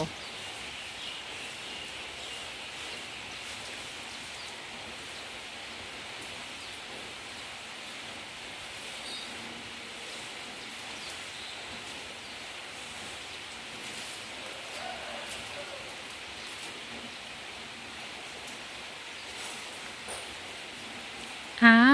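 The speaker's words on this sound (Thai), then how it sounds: "ฝนตกปล่อยๆ อากาศเย็นสบาย" Steady rain falls on a cool day, a soft continuous hiss throughout, with faint bird or insect sounds and a brief louder knock at the end.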